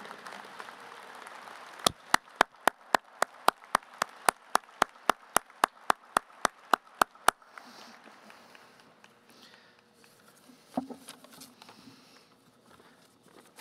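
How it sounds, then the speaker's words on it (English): A graduation ceremony audience at Guilford Technical Community College gives a round of applause, starting with loud, evenly spaced claps near the microphone, then fading into a softer, diffuse hall murmur. "So let's them also give them a round of applause."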